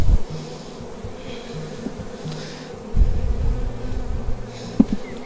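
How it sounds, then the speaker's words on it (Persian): Honey bees hum and buzz steadily around an opened beehive during hive inspection, a dense close swarm drone with a brief louder swell partway through. "بچه ها دیدین چقدر زنبور آرومه؟"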